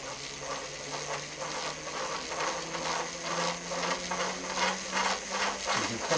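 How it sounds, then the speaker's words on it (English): Flywheel whirring steadily as it spins up faster, driven by a slipping belt, with a busy mechanical hum and faint rhythmic ticking throughout. "This is the flywheel now, and it's going a lot faster."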